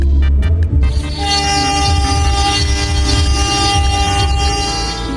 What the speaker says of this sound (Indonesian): Oke, lokomotif BB303 ini klaksonnya sama aja cuy ya.